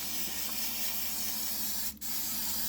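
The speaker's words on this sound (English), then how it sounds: "And then you're going to spray it again and be very generous yet again." Cooking oil spray misted over breaded chicken before air frying, a close, steady hiss from the can that runs almost continuously, with one brief break near the end.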